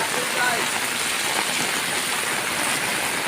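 Heavy morning rain pours down in a dense, steady hiss that stays loud and even throughout, with no distinct drops standing out and no voices.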